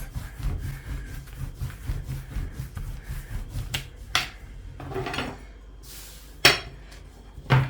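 Three sheets of yufka dough are rolled out together with a long rolling pin, giving a soft rhythmic wooden rubbing and rolling at close range, broken by a few sharp knocks and clacks.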